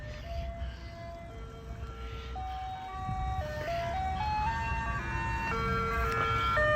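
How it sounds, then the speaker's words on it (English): An ice cream truck plays its jingle as a steady chain of electronic tones, fairly close and continuous, with a road and engine hum underneath and no talking. "Icecream truck here."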